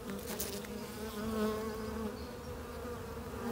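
Honeybees in a hive, working over emergency queen cells, hum in a continuous close buzz with a few faint clicks and rustles on top.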